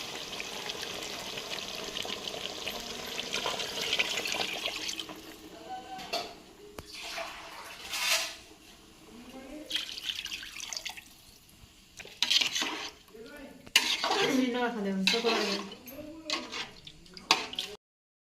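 Water runs and splashes into a cooking pot for several seconds, then pauses and resumes in bursts, with a person talking intermittently over it.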